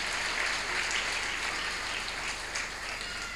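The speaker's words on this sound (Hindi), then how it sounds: "एक बार जोरदार तालियां इस परिवार के लिए बजाइएगा।" Audience clapping at a religious discourse gathering honouring a donating family, a steady wash of applause from a large crowd, fairly distant and even throughout.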